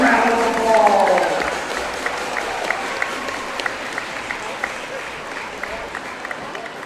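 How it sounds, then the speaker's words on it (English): A crowd at a high school girls basketball game applauds an athlete, a dense sustained clapping that starts loud with voices mixed in, then eases into a steadier, slightly softer patter for several seconds. "Let's give them a huge round of applause."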